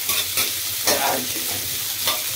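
Chopped onions sizzle in a hot oil tadka in a small room kitchen, with scraping stirring strokes repeating every half second or so over a continuous close frying hiss.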